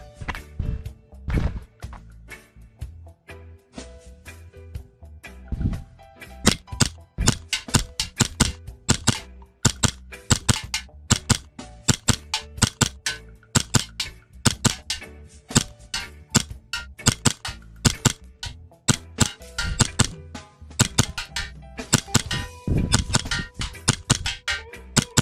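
Custom Hi-Capa 5.1 airsoft pistol fired at a target 20 meters away, sharp snapping shots in quick bursts and doubles across the whole stretch, loud and close with a few short gaps between strings.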